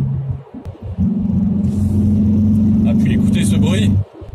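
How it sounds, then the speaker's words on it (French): A Hyundai i30 Fastback N with a 2-litre 275 hp engine roars up close, a loud sustained engine note rising in after a brief lull and cutting off abruptly near the end. "écoutez ce bruit, sans avoir un V8, on a un beau moteur 2 litres de 275 chevaux"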